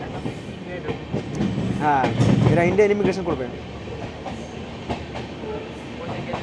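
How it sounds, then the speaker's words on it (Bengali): The Maitree Express, the Dhaka–Kolkata international train, rolls into Gede station with a steady rumble and clatter of wheels on rails, with people talking close by over it. "সময় দুপুর 2:28 আমাদের ট্রেন পৌঁছালো হচ্ছে গেদে স্টেশনে।"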